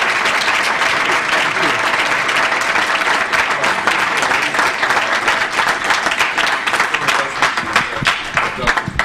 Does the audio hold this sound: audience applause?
yes